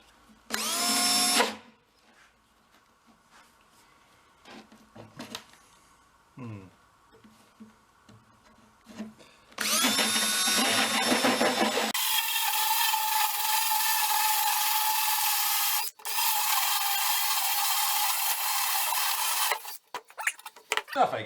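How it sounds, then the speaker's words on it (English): A power drill fitted with a hole saw bores a hole for a rusty fuel tank cleaning machine, roaring in two long sustained bursts with brief quieter handling noises between. "Might be a little too much for this drill, but let's go find out."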